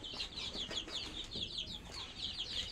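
Domestic chickens on a small home farm clucking steadily, several birds overlapping in a busy, close chorus of short calls with no talking.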